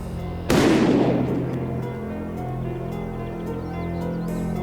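A single loud shotgun blast fired at clay pigeons booms close by, then a long rumbling decay rolls away into outdoor ambience.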